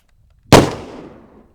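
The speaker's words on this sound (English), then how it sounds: "What are you shooting at?" A single sharp gunshot cracks out alone in a western drama, a sudden loud bang that trails off in a short echoing decay.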